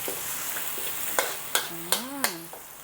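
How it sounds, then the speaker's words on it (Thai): Chillies and garlic stir-fried in hot oil in a pan for Thai shrimp with bird's eye chilli, with a steady sizzle and several distinct scraping strokes of the spatula, close and clear. "ก็ผัดให้เขาเหลืองหอมนะคะ"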